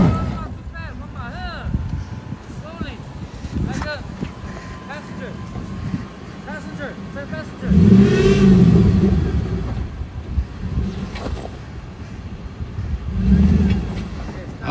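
A Toyota 4x4 crawls an off-road trail at Sour Grass, California, its engine droning low and swelling into louder revs around eight and thirteen seconds, with wind buffeting and people talking over it.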